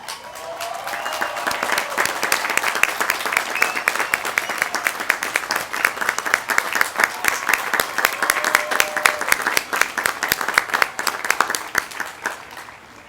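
A commencement crowd at Shenandoah University bursts into sustained applause and cheering, many hands clapping in a dense, steady wash that holds for several seconds, with a few faint voices and whoops mixed in.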